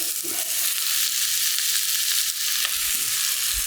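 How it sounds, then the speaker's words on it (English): Onions and cracked pepper frying in clarified butter for steak au poivre, a steady, dense sizzle that holds close and even throughout with no talking and only slight shifts as the pan is handled. "In with your onions. Wilt your onions down."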